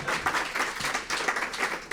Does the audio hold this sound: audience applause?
yes